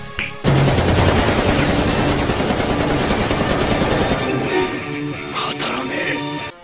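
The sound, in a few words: gunfire in an anime clip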